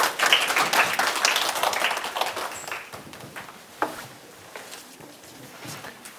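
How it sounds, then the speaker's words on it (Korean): An audience at a lecture breaks into applause that is loudest at the start and then thins into scattered claps that fade over several seconds. "박수로 맞이해주세요."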